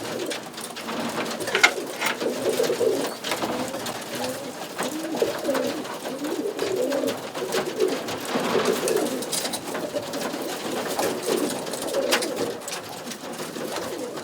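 Roller pigeons coo in low, rolling phrases that repeat and overlap, close by and moderately loud, with occasional flutters and shuffles around them.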